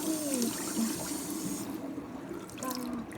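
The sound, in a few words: hot water running from a tap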